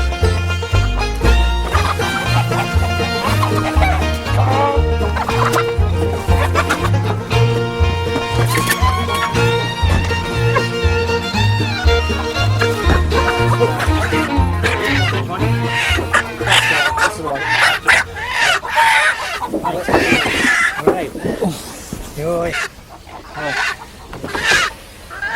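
Rhode Island Red and bantam chickens cluck in a hot coop, repeated clucks layered over steady rhythmic music, with the birds growing louder and busier toward the end.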